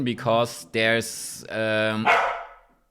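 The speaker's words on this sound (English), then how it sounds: "Sorry, that was my dog who's in a good mood." A dog in a good mood barks and yips several times in quick bursts close by, with a short whimpering tail at the end, while a person's brief speech overlaps.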